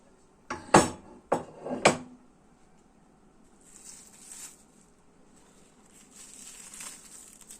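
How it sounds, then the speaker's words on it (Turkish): A few sharp metallic knocks and clanks of a pot being flipped over and set down, followed by soft rustling and scraping as it is lifted off a biscuit cake. "Tenceremizi ters çevirdik. Ve çıkartıyorum."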